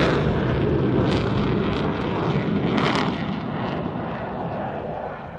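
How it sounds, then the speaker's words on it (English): An aerobatic aircraft at an airshow in Ayr pitching up into a barrel roll: a continuous loud, rumbling engine roar with wind noise, steady and slowly fading. "He's pitching the aircraft up"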